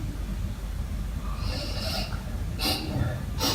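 Close, breathy sniffing by a mongoose in a few short bursts, with heavy snorting breaths over a low rumbling background.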